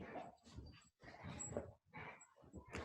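A pet dog whimpers and yips in short, whiny bursts broken by brief pauses, close but faint.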